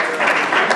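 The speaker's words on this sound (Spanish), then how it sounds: "¡Fuerte el aplauso para ellos mientras realiza la entrega!" An audience at a media awards gala gives a short, dense burst of applause for the award presenters, steady clapping that fills the hall.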